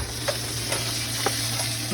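Eggs fry in a skillet for a sunny-side-up breakfast. A continuous sizzle runs under a low hum, with a few soft scraping taps from stirring spaced through the short stretch.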